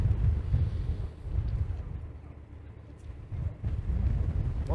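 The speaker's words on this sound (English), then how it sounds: "But that wind, if you can hear it." Chilly wind gusts across an outdoor dockside near the ship St. Laurent, a steady low rumble of microphone buffeting that swells and eases throughout, with no talk.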